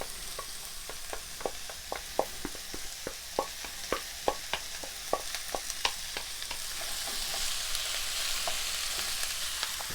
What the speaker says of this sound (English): So what I want to do now is I want to get the ground meat in there.